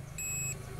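A continuity tester's buzzer beeps once through a car speaker under test, a steady high electronic tone lasting about a third of a second over low background hum, with no voices.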